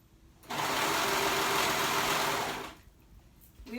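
A sewing machine stitches fabric for a dress, running in one steady, loud, close whirring burst of about two seconds before stopping, with faint handling noise after.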